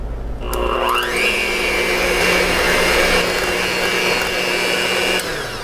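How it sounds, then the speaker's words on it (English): An electric mixer beating peanut butter and margarine into a fluffy mix, a loud continuous motor whine that ramps up in pitch in the first second, then holds steady close by before cutting off, with no talking. "I've got my mixer here, and I'm going to beat this up till it's nice and fluffy"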